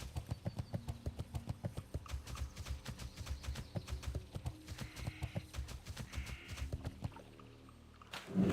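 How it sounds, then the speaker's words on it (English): Horse mount hoofbeats in World of Warcraft, a steady, even clip-clop trotting rhythm that carries on for most of the stretch, then briefly gives way to other game sounds near the end. "Clippity clop, clippity clop."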